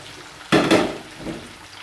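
Salted mackerel drops into a hot pan in a Jamaican home kitchen, setting off a sudden loud hiss that lasts about half a second, swells again briefly, then trails off into a fainter sizzle with a light scrape.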